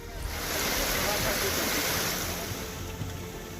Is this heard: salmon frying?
no